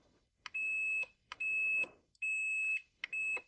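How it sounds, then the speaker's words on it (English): A multimeter's continuity buzzer touched to a phone's power button contacts during a dead mobile repair: four short, steady high-pitched beeps, each about half a second, with brief clicks between them, close and alone. "the buzzer will sound something like this."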